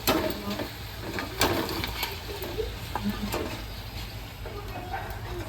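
Papad frying in hot oil, with soft continuous sizzling and crackling plus scattered popping bursts, fairly faint.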